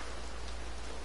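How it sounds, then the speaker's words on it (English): Steady rain in the Red Dead Redemption Online video game, an even, continuous patter of drops with no voices over it. "I love the sound of rain."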